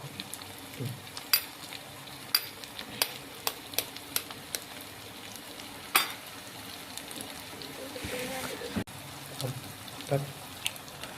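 Egg bhurji stir-fried in a pan, with a low sizzle and scattered clicks and scrapes of a spatula against the metal, moderately quiet and steady throughout.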